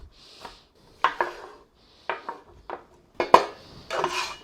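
A bench scraper pushes chopped pepper off a board into a crock pot on top of onions, making a few short, close scraping and knocking strokes separated by brief pauses.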